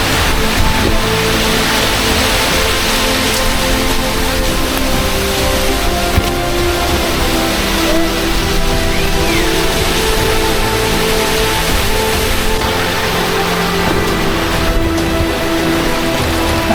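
Loud, continuous rush of a flowing mountain stream near Kurdugad Fort in the Sahyadri hills, a dense unbroken roar close by with no voices.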